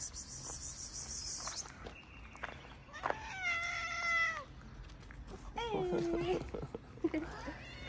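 Outdoor cats give several separate meows, with clear pitch bends and a longer drawn-out cry near the end, amid quiet background ambience and crickets chirping.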